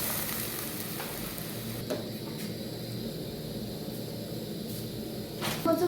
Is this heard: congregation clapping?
no